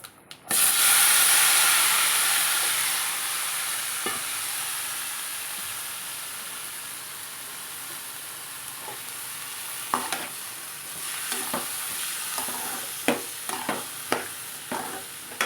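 Vegetables sizzle steadily in a hot pan for sambar, with scattered scraping stirs and clanks growing more frequent toward the end.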